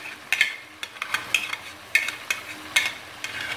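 Yogurt added to a pot of chicken biryani, giving soft sizzling with repeated sharp scraping and stirring clinks of a utensil against the pot, close and irregular, with no talking.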